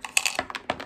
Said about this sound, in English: each person rolls one dice